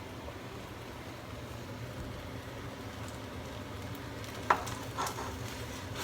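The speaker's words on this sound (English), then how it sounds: "You want to keep stirring it around." Rice is stirred around in a pan, producing a soft, continuous sizzle and faint scraping, with a couple of brief, sharper clicks near the end.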